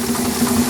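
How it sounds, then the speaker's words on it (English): An electric blower runs on a 6 inch scale Burrell gold medal traction engine, a loud continuous steady drone with a low hum and no breaks. "I got the electric blower on, which is the overriding noise"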